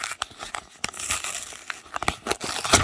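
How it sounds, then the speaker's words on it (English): A mailed sports card envelope is torn open along its side, sharp ripping and crinkling paper bursts in quick irregular bunches, close and fairly loud. "I just tear these right open on the side there"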